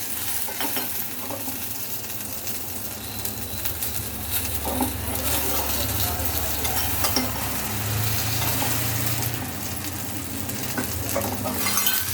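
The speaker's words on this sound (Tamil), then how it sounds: "இதை வதக்கி ஒரு பக்கம் தனியாக எடுத்து வச்சுக்கலாம்" Mixed vegetables for sambar sauté in a pan, a steady low sizzle with scraping stirs running continuously throughout, close and fairly loud, with no talking.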